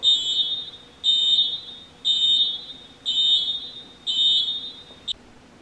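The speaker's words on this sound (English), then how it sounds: "The tractor just beeped at me." Warning beeper on an LS XR3135 tractor sounds five evenly spaced high-pitched beeps about a second apart, followed by a short final chirp, clear and close in an otherwise quiet setting.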